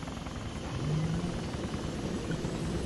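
Seahawk helicopter engine starting up in a flight simulator game, a steady low turbine rumble and whine building slightly, continuous and moderately loud with no talk.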